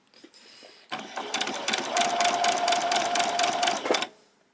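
A sewing machine stitches fabric for a pajama top in one steady, loud, close whirring run of about three seconds, starting and stopping abruptly, with no talk over it.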